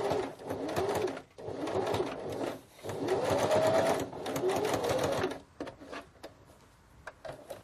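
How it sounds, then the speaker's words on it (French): Sewing machine stitching a small seam to close the lining opening of a zipper pouch, running in three long bursts separated by brief pauses, then a few short stitch taps and clicks at the end. "je vais fermer l'ouverture laissée sur la doublure en faisant une petite piqûre"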